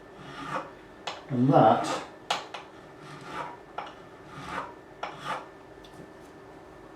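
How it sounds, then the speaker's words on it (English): Metal file stroking across the fret ends of a Jackson DK2M Dinky electric guitar with a Floyd Rose bridge, taking off burrs: a few short close rasping strokes with pauses, one longer louder pass, and brief speech. "I can run across here with just a few strokes, just to roll it in, take off any burrs we might have there."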